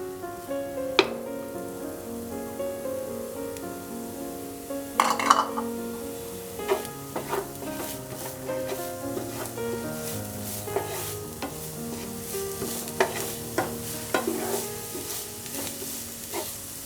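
Chopped ginger and garlic sautéing with onion in a pan, a steady soft sizzle under repeated scraping and clinks of a spoon stirring against the metal, close and fairly quiet.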